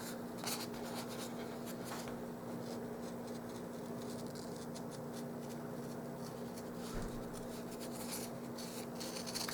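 Scissors cut out a paper image for decorating a doll shirt, a continuous close rustle of snipping and paper handling over a low steady hum.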